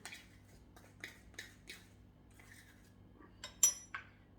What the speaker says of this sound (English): So I'm just going to stir this in there.